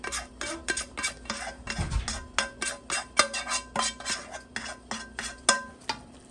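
Cooked onions are scraped and stirred into two sticks of butter in a wok skillet, with a quick run of close metal-utensil clinks and scrapes against the pan and a soft thump near the start, no talking.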